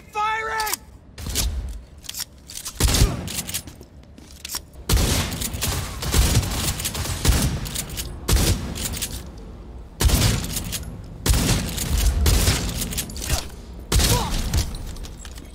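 Cyberpunk 2077 gunfire in repeated sharp bursts and single shots, loud and close, spread across the whole stretch with mechanical clatter between shots and a few shouted voices.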